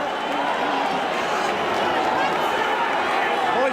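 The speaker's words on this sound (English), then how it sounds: "difficult to know why a crowd is booing" A large arena crowd of about 8,000 people boos at a Mike Tyson boxing fight against Tillis, producing a steady, dense roar of voices that holds throughout without pause.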